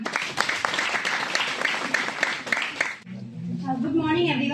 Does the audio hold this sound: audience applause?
yes